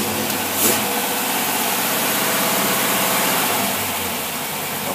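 A Predator small engine with a carburetor set lean runs at a steady, even idle close to the microphone, a continuous mid-low drone with a faint thump near the start and no talking.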